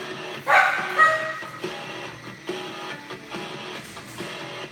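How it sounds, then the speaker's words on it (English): A dog barks sharply and loudly a couple of times up close, followed by quieter yips and whimpers. "Our dog is being rowdy."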